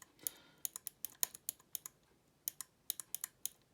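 Buttons on an Ascher Racing B24L-SC sim racing wheel button plate click sharply in quick, uneven bursts, close and crisp against a quiet background.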